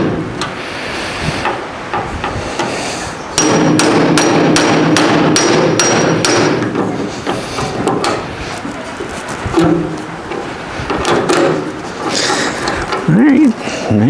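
Hammering on rusted screws in the rear metal of a 1970 El Camino, a fast run of sharp metallic strikes close by, with people talking before and after.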